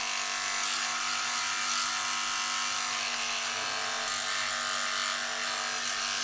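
A Philips Norelco Shaver 6800 wet/dry electric shaver buzzes close by with a steady, even drone that holds unbroken for several seconds, with no voices.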